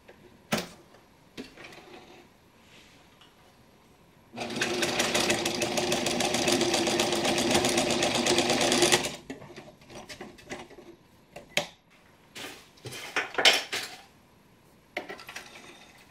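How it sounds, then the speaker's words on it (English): A sewing machine runs steadily for about four and a half seconds, stitching a roll top stuff sack, with scattered clicks and handling noises before and after. "let me go ahead and sew these on there"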